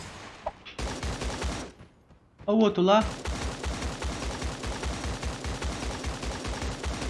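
Rapid bursts of gunfire from the video game Creative Destruction crackle in quick repeated volleys, pausing briefly before resuming, while a player speaks over the action.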